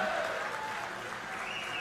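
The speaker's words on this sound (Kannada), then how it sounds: "ಜೋರು ಚಪ್ಪಾಳೆಯ ಧನ್ಯವಾದಗಳನ್ನ ಅರ್ಪಿಸೋಣ" Steady, fairly faint audience applause fills a large outdoor gathering at the Mysuru Dasara Mahotsav 2025 inauguration, honouring author Banu Mushtaq. A faint tonal hum sits underneath the continuous patter of hands.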